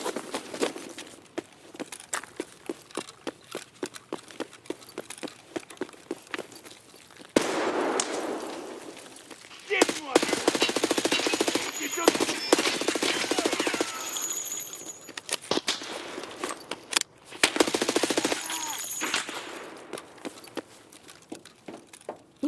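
Rapid bursts of gunfire from the shooter game Escape From Tarkov crack through the scene in clusters, some near and loud, others farther off, with clanks and footsteps between volleys.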